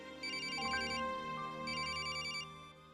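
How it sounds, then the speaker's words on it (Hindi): A mobile phone plays a melodic ringtone in two repeated bursts of warbling electronic notes, moderately loud indoors over a soft background hum, with no one speaking. "कुंजन का फोन"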